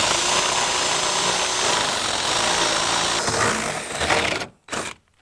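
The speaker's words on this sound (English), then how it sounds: "3/4 inch paddle bit or a regular bit, it doesn't matter. Let's get this drilled." A power drill with a 3/4 inch paddle bit bores holes in a gate frame, a loud steady whine running several seconds before stopping, then a brief second burst.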